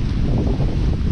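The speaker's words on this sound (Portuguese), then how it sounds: "Tá ventando bastante." Steady gusting wind roars beside a sugarcane field next to an asphalt road, a dense constant rush buffeting the microphone with no voices.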